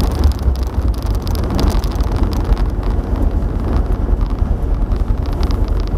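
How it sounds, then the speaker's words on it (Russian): Car with a ZMZ 406 engine coasting as its revs drop smoothly toward idle, a steady low engine drone mixed with road and wind noise, close and continuous, without speech. "обороты опускаются плавно до 1000, когда иду накатом"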